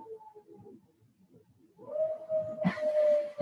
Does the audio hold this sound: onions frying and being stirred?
no